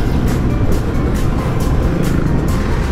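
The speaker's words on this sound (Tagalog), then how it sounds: "Siya isang Suzuki V-Strom 650." A Suzuki V-Strom 650 motorcycle rides on the NLEX expressway at night, making a loud, close, unbroken roar of engine and rushing wind throughout, with no talking.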